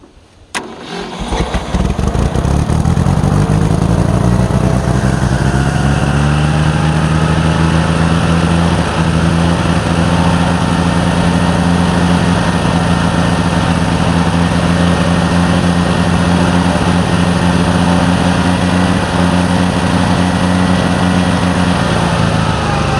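A 1966 Ford 3000 tractor, run again after sitting for a year, cranks briefly, then catches and roars into a loud, steady diesel running note that holds close and strong to the end.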